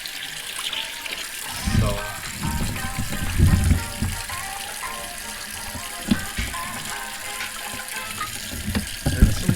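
Tap water trickles and gushes into a sink while northern pike fillets are rinsed, with splashes rising and falling and a voice talking over it.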